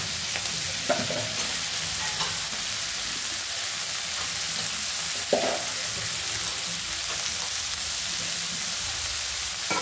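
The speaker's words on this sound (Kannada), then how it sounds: "ಸ್ವಲ್ಪ ಬಟಾಣಿ ಹಾಕಿದ್ರೆ ಸ್ವಲ್ಪ ಫ್ರೈ ಮಾಡ್ಕೊಳ್ಳೋಣ." Green peas and potatoes fry in a pan, with a continuous close crackling sizzle and occasional scraping stirs from a spatula running throughout, without any speech.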